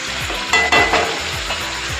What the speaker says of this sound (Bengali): দেখো আমি ভালো করে মশলাটা কষে নিয়ে আসছি